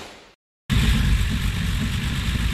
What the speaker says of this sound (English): Engine runs very, very nice.